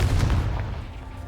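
A Confringo blasting spell explosion in the Hogwarts Legacy video game, one heavy low boom that starts loud and rumbles away over a second.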